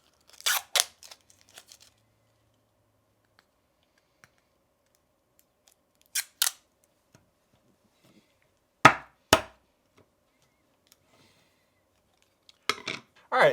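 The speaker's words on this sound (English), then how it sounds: "So it looks like we're gonna need our scissors." Scissors cutting plastic wrap off an acrylic LEGO display stand: sharp, close snips in small clusters of two or three, separated by near silence.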